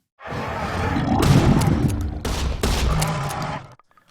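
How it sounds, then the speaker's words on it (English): A layered, exaggerated video-game shotgun blast built from field recordings and weapon sounds erupts suddenly, roars heavily for about three seconds with a second burst partway through, then cuts off. "I then combined it with a few weapon sounds to create a more exaggerated shot that felt right in the game."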